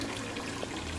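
Water trickles steadily from a small statue into a clean outdoor swimming pool at a mansion on St Croix, a soft, continuous splashing stream heard alone at low level.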